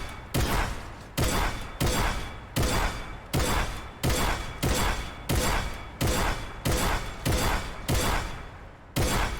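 Hip-fire gunshots in a Fortnite aim practice map, a steady run of about a dozen loud sharp shots spaced under a second apart, each with a short ringing tail.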